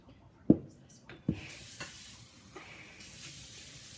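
Chocolate chip cookie dough is worked in a bowl by hand, with two sharp knocks of the utensil against the bowl early on, then softer scraping and stirring sounds.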